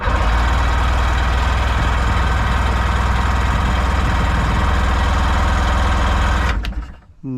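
A Seadoo GS jet ski engine with the choke pulled out runs at a steady, buzzing idle, close and loud, then cuts out abruptly near the end and sputters once.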